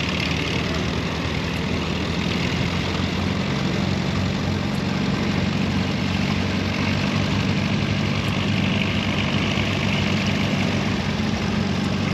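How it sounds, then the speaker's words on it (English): A 1944 Minneapolis Moline ZTS tractor engine idles steadily at a show in Larned, Kansas, with a low continuous rumble and drone held close and even throughout, no voices over it. "And another beautiful Minneapolis tractor."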